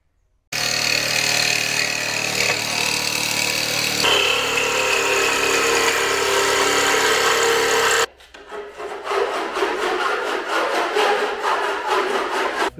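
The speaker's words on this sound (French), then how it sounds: "On est obligé de découper 1 cm à peu près de mât, en pied de mât." A power tool cuts roughly a centimetre off the foot of a sailboat mast. It gives a loud, continuous harsh grinding rasp, then changes to a rougher pulsing scrape, close and with no talk.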